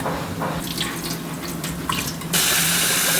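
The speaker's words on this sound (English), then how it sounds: "We have to wash the rice" Tap water running over rice being washed in a sink before making masala dosa, with splashing and rinsing sounds close by, then the flow becomes a strong, steady gush near the end.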